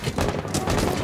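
A dense, loud burst of gunfire in the Rainbow Six Siege video game during a bomb match, with rapid overlapping shots filling the whole moment.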